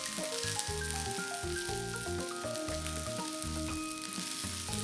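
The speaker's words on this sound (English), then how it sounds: "Continue to fry this for about 1 to 2 minutes till the tomatoes are softened." Tomatoes fry in a pan with salt, pepper and sugar, a continuous close sizzle beneath a bright melodic backing tune.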